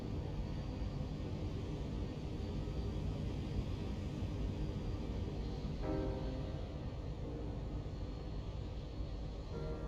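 Steady, broad jet engine roar from a Zibo 737 in the X-Plane 12 flight simulator, a dense continuous rumble with a faint rising tonal whine joining partway through, no talking.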